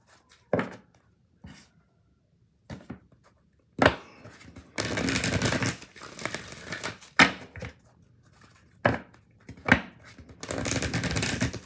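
A deck of oracle cards is shuffled up close, with sharp single snaps and flicks followed by longer riffling bursts, then more taps and a final riffle in a quiet room.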